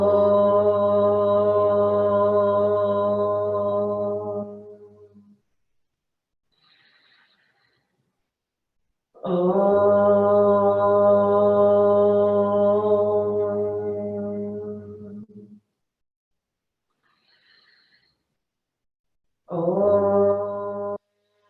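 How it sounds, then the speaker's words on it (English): A yoga class chants om together three times, with long sustained swelling tones separated by quiet breaths, in a calm room setting. "let's take the sound of three ohms together"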